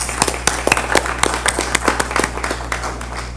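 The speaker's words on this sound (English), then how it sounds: "Let's give her a hand of applause." A small group at a school board meeting clapping, a brief burst of applause with irregular hand claps over a low steady hum.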